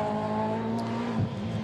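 A Radical sports-prototype race car drives its final lap at the Hungaroring circuit, a steady, sustained engine drone holding one pitch before easing slightly, heard at moderate distance without speech.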